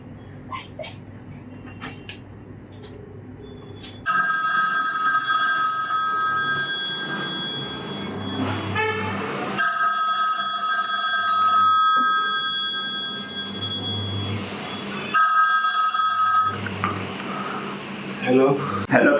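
A telephone rings repeatedly in a tense scene, several electronic ring bursts separated by short pauses, fairly loud and close over a low background hum.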